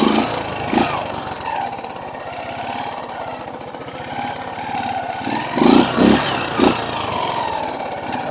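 A 1985 Honda racing motorcycle engine while riding, a loud continuous rasping drone with a few louder revving bursts near the end, close to the microphone and without talk.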